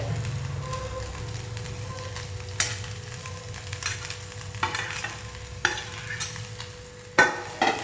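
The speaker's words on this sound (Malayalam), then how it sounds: "നമുക്കിതൊന്ന് കുറച്ചൊന്ന് മൂപ്പിച്ചെടുക്കാം." Whole spices such as stone flower, bay leaf and cardamom frying in hot oil, giving a steady soft sizzle with occasional clinks and stirring scrapes close by, fairly quiet and without speech.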